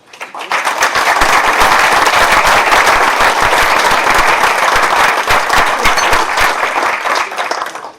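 A large audience at an award ceremony breaks into loud, sustained applause, dense steady clapping that swells quickly and holds for several seconds before tapering at the end.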